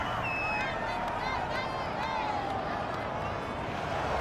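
Football stadium crowd at an NFL game reacting to a penalty call, a broad steady roar of many voices with whistles and shouts rising above it, loud and continuous.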